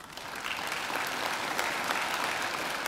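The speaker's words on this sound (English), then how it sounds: "I think they deserve a round of applause too" Sustained applause from a large audience fills a hall at a university graduation ceremony, dense steady clapping that swells slightly and continues throughout without talk.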